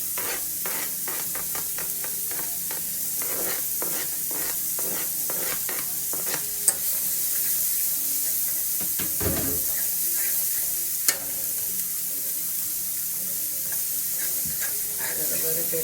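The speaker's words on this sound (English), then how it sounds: "My onions is already browning, so I'm gonna go ahead and add my celery and my peppers." Onions, celery and peppers sautéing in a pan, a steady sizzle broken by repeated stirring scrapes and two sharp clanks, with a brief swell of hiss midway.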